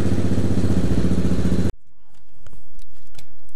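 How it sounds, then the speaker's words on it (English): A KTM 690 R motorcycle engine runs loud and close after an oil change with a steady rhythmic throb, then cuts off abruptly and leaves quiet background noise. "start the motorcycle, let it run for about a minute, and check for leaks"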